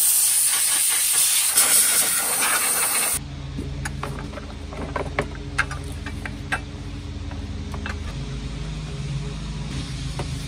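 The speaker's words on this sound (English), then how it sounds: "I'm gonna hit it with brake clean, blow it off, and test fit the part again." Compressed air blowing off brake cleaner during a power steering repair on a 1986 Chevy S10 Blazer: a loud, steady broadband hiss for about three seconds, then cutting off to quieter workshop sounds.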